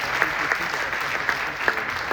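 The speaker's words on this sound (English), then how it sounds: "I think they all deserve a round of applause" Audience at a startup pitch competition in Brussels gives a short round of applause, moderately loud and steady, with a few louder claps standing out.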